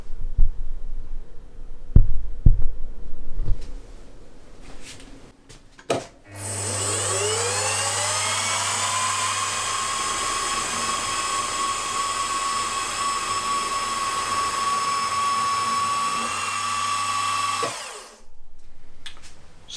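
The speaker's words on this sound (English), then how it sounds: "I've just drilled through with a 1/4 of an inch drill bit" A machine spins up and drills through a steel crankshaft for a model V-twin engine with a 1/4 inch bit, giving a long, steady high whine of about ten seconds between scattered clunks before and after.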